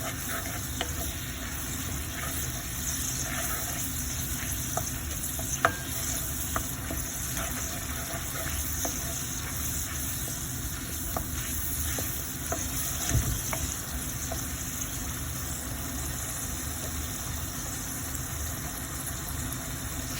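Onions fry in a pan with a continuous steady sizzle, punctuated by faint scrapes and taps of stirring, alongside a constant background hum, with no talking.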